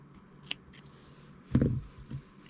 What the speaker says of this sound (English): now I'm going to just cut off that excess